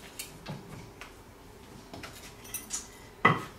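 Titanium Knew Concepts soldering clips tap and clink against each other in an annealing pan, a handful of light, sharp metallic hits spread unevenly, the last one brightest and loudest.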